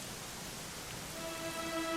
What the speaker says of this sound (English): You know, it was raining like this the last time I ever saw her.